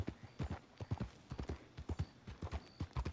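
Horse hooves clip-clopping steadily in Red Dead Redemption 2, a brisk, close, rhythmic series of distinct thuds with no talk over them.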